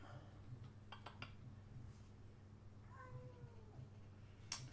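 Indoor house cats meowing softly, a couple of faint rising and falling meows over a low hum, along with light clinks of dishes or cutlery.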